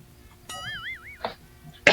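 One short cough sounds near the close, sharp and loud after a mostly quiet stretch with a brief warbling tone and a soft breathy burst earlier.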